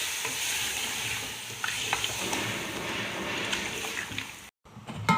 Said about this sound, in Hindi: ये देखिए, ये हमारा गोश्त तेज़ आंच पर भून रहा है। इसका फ्लेम मैंने हाई किया हुआ है।